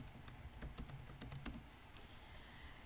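Computer keyboard typing, a quick burst of rapid clicking keystrokes for about two seconds, then trailing off into quiet room noise with no talking.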